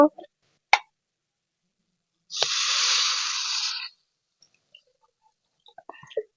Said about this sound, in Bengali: এবার খানিকটা পরিমাণে জল দিয়ে দেব